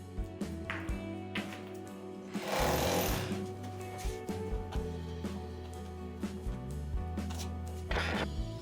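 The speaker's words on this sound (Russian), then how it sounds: "Если материал твердый, то он выбивается перфоратором." Rotary hammer chiselling hard wall material in a new-build flat, a loud rattling hammer run in short bursts with a heavier stretch near the start, pausing between bursts.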